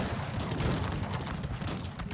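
Massed musket volleys and crackling gunfire fill a battle in the strategy game Cossacks 3, a dense, continuous din of overlapping shots at steady loudness.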